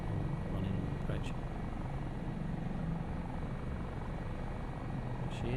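A Dauphin helicopter in a Microsoft Flight Simulator flyby gives a steady, loud rotor and engine drone that holds evenly throughout, with a few faint higher blips over the top.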